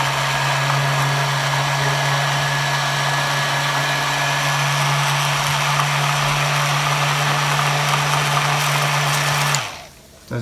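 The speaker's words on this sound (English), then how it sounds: "And then you have to use the immersion blender." Immersion blender whirring steadily through coffee with butter and coconut oil, a loud, continuous motor drone with a constant hum that runs nearly ten seconds and then cuts off abruptly.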